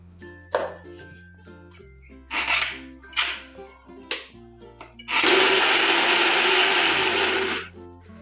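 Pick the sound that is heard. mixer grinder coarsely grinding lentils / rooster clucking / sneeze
mixer grinder coarsely grinding lentils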